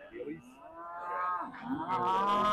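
Beef shorthorn cattle at a show ring during judging at the Royal Highland Show, one animal letting out a long, rising, drawn-out moo that swells louder toward the end, with faint hall murmur behind it.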